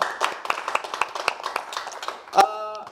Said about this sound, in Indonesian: Tepuk tangan dong buat Sarwenda.